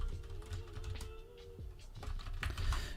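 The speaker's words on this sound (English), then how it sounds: "apologies if the typing's loud, but I'm just smashing the keyboard." Rapid, uneven clatter of computer keyboard typing, close and fairly loud, with a low background hum and no voices.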